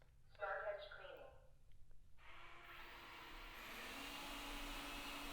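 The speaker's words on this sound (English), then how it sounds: "the vacuum will just clean the perimeter of our rooms, going along the edge of the walls and the baseboards" A Thamtu G11 robot vacuum cleaner runs in edge cleaning mode along walls and baseboards, giving a faint, steady whirring hum that builds slightly after a brief voice at the start.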